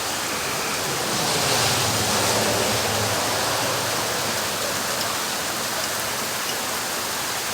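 A river rushes during a rainstorm, with steady broadband hiss of flowing water and falling rain, continuous and fairly close, with no talking.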